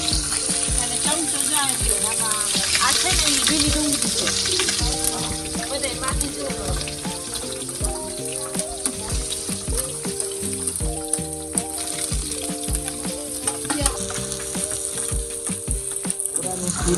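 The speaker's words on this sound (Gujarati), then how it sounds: "વઘાર થાય છે." A tempering sizzles in oil for a rustic brinjal oro with green garlic and onion on a clay wood-fired stove outdoors, a continuous close crackling hiss under people talking in the background.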